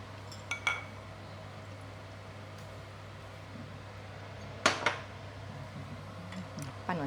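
Spoon clinking against a bowl or pan while stirring a little water into a mixture for sweet and sour chicken, a few faint scattered taps over a quiet hum.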